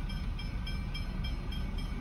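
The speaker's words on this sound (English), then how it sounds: "That's a passenger train." A passenger train passing a railway crossing in Australia, heard as a steady, dense rolling rumble and rail noise that fills the whole short stretch without a horn.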